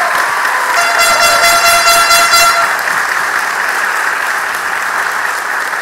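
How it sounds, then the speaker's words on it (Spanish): Loud, roaring applause at the Miss Earth Puerto Rico 2022 pageant, with blaring horns sounding over the clapping in the first half before it settles into a sustained cheerful ovation. "yo pido el más grande y fuerte aplauso."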